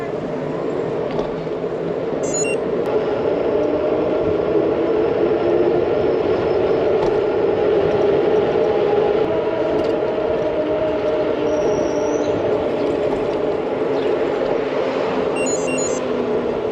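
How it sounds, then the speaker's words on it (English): Train at a Swiss railway station, heard while cycling across Switzerland: a loud, steady rumble and hiss of rolling stock fills the whole stretch, with brief high squeals and tones breaking through now and then. "We're at the train station."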